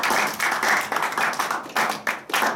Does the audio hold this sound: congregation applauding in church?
yes